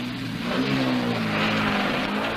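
Rally cars race in the 1958 Coupe des Alpes, a steady engine drone at moderate distance that rises slightly in pitch and holds, without talk.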